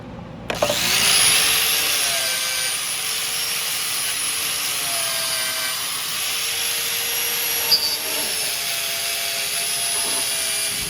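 An inexpensive angle grinder fitted with a wire brush attachment cleans rust off a shaft on a vintage Snapper mower, giving a loud, continuous high whine with rough brushing grit that holds steady for several seconds.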